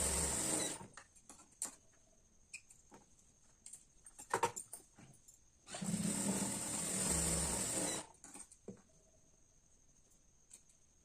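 A sewing machine double-stitching a blouse runs in two bursts of fast, close mechanical whirring, separated by quiet gaps with small clicks and handling taps.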